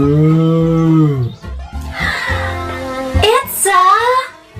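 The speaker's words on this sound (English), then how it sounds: "It's a cow." Cartoon cow in a pretend-play farm animals animation gives a long, drawn-out moo, followed by livelier animated voices and sounds, all loud and close.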